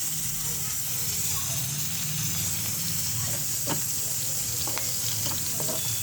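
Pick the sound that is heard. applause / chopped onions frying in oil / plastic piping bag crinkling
chopped onions frying in oil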